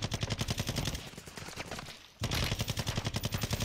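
Rapid automatic gunfire from an online shooter video game, a fast regular rattle of shots that thins out briefly mid-way before a loud burst resumes, close and dense with no talk.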